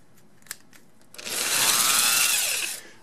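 A power drill drives a screw with a loose bit while a hose bibb is being installed. A few quiet clicks give way to a loud, rising whir that lasts about a second and a half and then fades.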